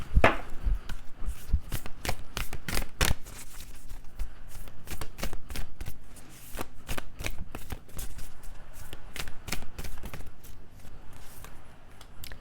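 A tarot deck being shuffled at length and cards drawn, dense riffling flutters and soft slaps in quick irregular bursts, close and continuous without speech.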